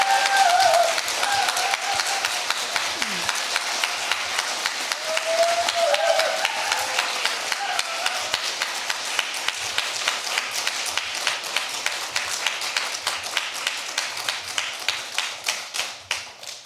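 A church congregation at a 35th-anniversary service gives sustained, steady applause for over fifteen seconds, many hands clapping in a large room at moderate loudness, with a brief voice early on.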